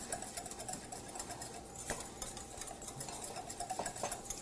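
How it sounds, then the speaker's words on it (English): A whisk works steadily through a tarragon sauce in a kitchen, a continuous fast rattling churn with one sharper clink near the middle, fairly quiet and with no talking. "We're whisking the whole time while we're putting this in."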